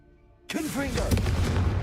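Confringo blasting spell in Hogwarts Legacy: a sudden sharp blast erupts out of near silence, followed by rapid rumbling bursts and crackling debris, with game sound effects sweeping underneath.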